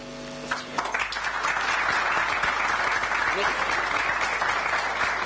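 Sustained audience applause at a 1999 commemoration for Abderrahim Bouabid, starting abruptly after a brief tone and continuing as a dense, steady wash of clapping throughout.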